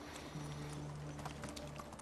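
Horse hooves clip-clop at a steady trot in the video game Medieval Dynasty, faint rhythmic knocks over a low background hum.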